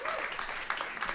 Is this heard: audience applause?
yes